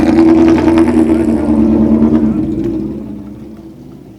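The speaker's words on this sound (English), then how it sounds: "I can hear the power kicking in on a couple of the cars behind us" Loud engines rumble and rev nearby at the Goodwood Festival of Speed, the roar building and then slowly fading as the cars pull away.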